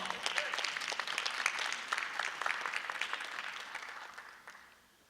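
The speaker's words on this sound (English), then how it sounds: "y'all give him a round of applause" Applause welcomes a speaker at a Black wealth-building gathering. Steady clapping from a crowd fills the room and fades out at the end.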